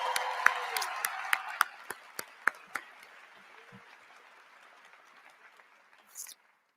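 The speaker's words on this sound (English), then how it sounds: "Give them a round of applause." Applause from an audience in a State of the City address hall for medal-winning senior Olympians, sharp claps loudest at first, then thinning and fading over several seconds into a quiet tail.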